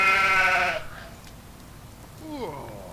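A sheep bleats loudly in a wavering cry in the video game Stubbs the Zombie, then after a quiet gap a shorter, falling bleat follows, with a faint voice in between.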